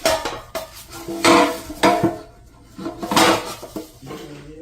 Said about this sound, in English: We are going to apply butter in the pan first.